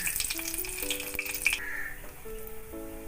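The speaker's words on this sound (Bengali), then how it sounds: "এতে আমি একটু কালো জিরে ফোড়ন দিলাম, একটা শুকনো লঙ্কা দিলাম" Nigella seeds and a dried red chilli hitting hot mustard oil in a kadai, a steady close sizzle with sputtering pops, while a few tonal birdlike chirps and whistles sound in the background.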